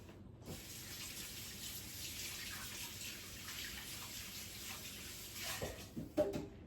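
Hands being washed under a running kitchen tap, a steady close stream of water that lasts the whole time, with splashing that picks up toward the end and no talk.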